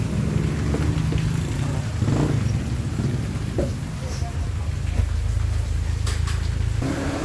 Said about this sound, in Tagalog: yung aking sinakyang Songteo